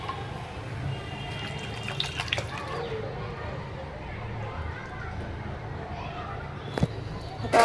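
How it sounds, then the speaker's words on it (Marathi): Water is poured into sautéed misal masala with moth beans, a soft splashing trickle under nearby voices and children playing in the background, ending with a couple of sharp clinks. "आता आपण यात पाणी घालूया."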